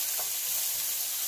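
Onions frying in a pan over high heat, a steady dense sizzle and hiss that holds at an even level throughout, close and fairly loud, with no talking.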